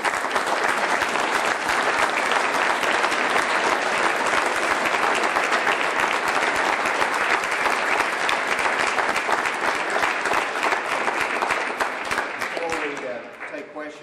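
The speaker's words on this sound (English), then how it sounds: "let's give a round of applause" Sustained, dense audience applause fills a bill-signing ceremony with the Arkansas governor, loud and steady for over ten seconds before tapering off near the end, with faint voices underneath.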